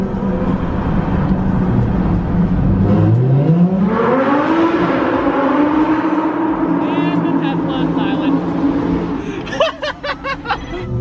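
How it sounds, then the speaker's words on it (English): Lamborghini Huracan Performante engine revving in a tunnel, a loud rising sweep up to a sustained booming roar echoing off the walls, then sharp crackles as it lifts off, with people laughing and chuckling over it. "that Huracan sounds good in the tunnel"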